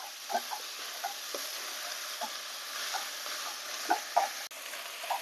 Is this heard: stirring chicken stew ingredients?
yes